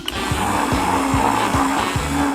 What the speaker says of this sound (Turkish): Gerçek kokteyl yapacağım. Blenderla çok kolay. Sadece meyveleri içine koyup düğmeye basmalıyım.